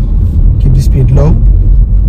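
Heavy low rumble from a car coasting with neither throttle nor brake applied, steady and close, with a voice speaking briefly over the drone.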